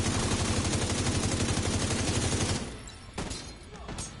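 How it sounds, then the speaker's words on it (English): Sustained rapid automatic gunfire in The Division 2 during a terminal defense, loud and continuous for about two and a half seconds, then breaking into scattered, quieter shots. "then I'll just start shooting"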